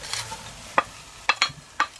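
Soup vegetables stirred into lightly fried onions in a Dutch oven: a soft, steady sizzle runs underneath, while a few sharp scraping and clinking strokes of the stirring utensil land close by.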